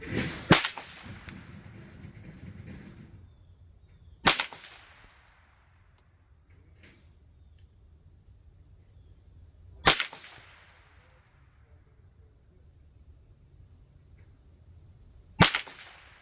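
Four sharp, loud .22 rifle shots from Winchester Super X rounds, spaced several seconds apart, each cracking alone with a short fading tail over quiet low background rumble.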